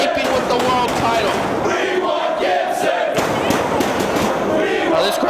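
A wrestling crowd at an ROH Redemption show chants loudly and steadily, a dense roar of many voices with rhythmic swells throughout.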